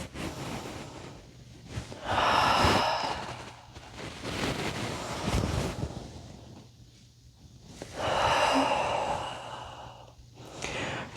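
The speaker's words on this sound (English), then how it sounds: "Inhale and exhale. Inhale and exhale. One more to your own breath." Deep breaths drawn in and let out during a yoga flow, two long swelling exhales with quieter inhales between, close and breathy with no talking.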